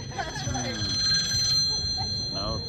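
A telephone bell rings in a comedy sketch at an outdoor street performance, a steady electronic ring running under people talking.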